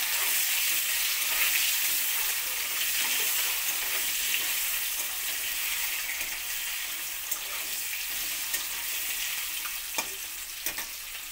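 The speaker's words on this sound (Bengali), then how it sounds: "নুন হলুদ দিয়ে ডিমগুলোকে ভেজে নেব লাল করে।" Eggs seasoned with salt and turmeric fry in hot oil for a Bengali pumpkin curry, giving a steady, close sizzle with faint crackles and a few sharp pops, no talking.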